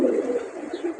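Pigeons coo softly in a pigeon club yard in Baku, a low continuous burbling murmur lasting about a second, fairly close with light background noise and no talking.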